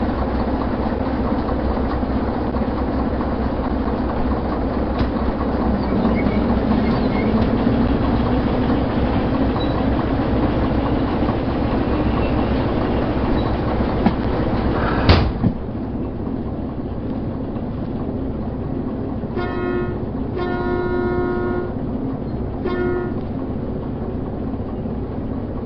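A train in the Derail Valley railway game rumbles along the rails with a steady heavy engine drone, one sharp clank midway and a brief tonal horn-like pattern near the end.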